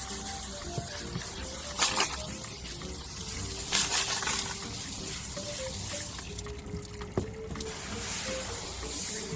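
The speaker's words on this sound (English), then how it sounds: "Let's give it another rinse." Tumbled rocks being rinsed with water: a steady gush and splashing of water runs throughout, with occasional knocks and rattles of stones close by.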